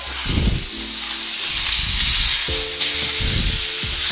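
A flipped rib eye steak sears in a hot pan with butter and miso, giving a loud, steady sizzle throughout, with low thumping and scraping pan handling sounds underneath.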